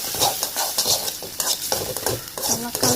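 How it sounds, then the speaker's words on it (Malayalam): Salted egg is scrambled in a pan, with repeated scraping and stirring strokes over a constant crackling sizzle, close and fairly loud. "അമ്മ മുട്ട വറുക്കില്ല, മുട്ട ചിക്കുകയാണ്."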